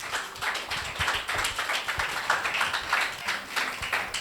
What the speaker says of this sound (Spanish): Un aplauso a Jesús.